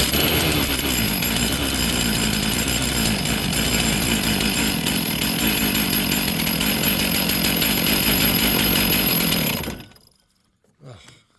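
A chainsaw bought at auction runs loud and steady on full choke as it warms up, then cuts out near the end, leaving near silence.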